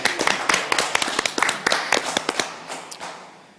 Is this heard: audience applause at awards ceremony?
yes